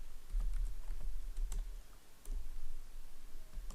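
Typing on a computer keyboard while entering a MySQL query, a steady patter of close, light key clicks with scattered sharper taps, no voices.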